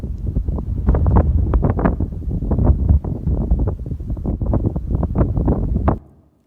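Strong cold wind buffeting the microphone in loud, gusty bursts, rough low rumbling pulses that rise and fall for several seconds before stopping abruptly.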